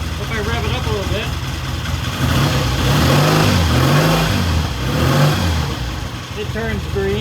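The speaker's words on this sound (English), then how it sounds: "If I rev it up a little bit," A 1968 Triumph T100 motorcycle engine idles close by and is revved twice, its pitch rising and falling in two distinct swells over the steady, throbbing idle.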